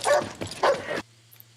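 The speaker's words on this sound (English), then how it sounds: "It's a vicious looking dog." A dog barks twice in quick succession, close and fairly loud, the sharp yelps breaking off into near silence with a faint low hum.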